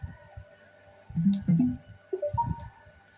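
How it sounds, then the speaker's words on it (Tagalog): A short electronic power-on chime from an RB120s Bluetooth speaker plays a few rising melodic tones, fairly quiet, after a soft click, with faint background hum. "Yan, ganyan po kaganda yung kanyang welcome sound."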